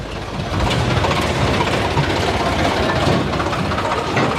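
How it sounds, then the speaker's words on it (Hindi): A long convoy of tractors rolls past at a farmers' protest at the Singhu border, a dense steady engine rumble and rattle, loud and close throughout with no clear talk. "और ये लंबी कतार है ट्रैक्टर की, मैं चाहता हूँ कि आप देखिए।"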